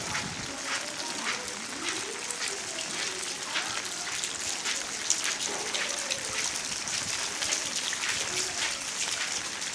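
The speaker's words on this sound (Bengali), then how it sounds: "এখনো বৃষ্টি হচ্ছে।" Steady rain in a Bangladeshi village after a night of heavy downpour over flooded crop fields, a dense continuous hiss of drops without a break for nearly ten seconds.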